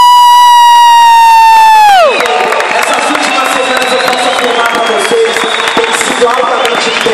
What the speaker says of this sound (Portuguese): Uma salva de palmas a todo o time corporativo.